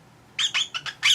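A pet cockatiel or lovebird squawking close by indoors, five sharp harsh calls in quick succession, the last one longest and loudest, with no speech.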